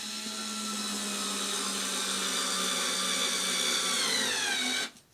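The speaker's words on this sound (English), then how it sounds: "I use a little Black & Decker driver, which I use all the time" A small Black & Decker power driver whirs continuously at close range with a steady high-pitched motor whine that rises slightly, then stops abruptly at the end.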